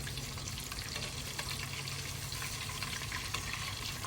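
River-caught catfish frying in hot oil, Louisiana Cajun style, a constant close sizzle and bubbling crackle with a low steady rumble underneath and no talking.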